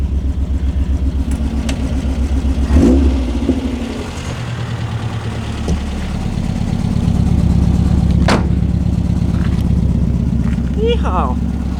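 A drift car's engine idles and revs on a snowy private track, a throbbing mid-pitched drone that swells and dips with a few throttle blips, close and loud, with people talking over it.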